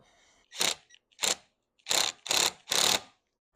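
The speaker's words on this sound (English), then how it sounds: "So let's put this hose clamp on, hook the fuel up" Hose clamp being fitted onto the carburetor of a Honda XR75 motorcycle: five sharp ratcheting clicks in quick bursts, close and loud, with no talk.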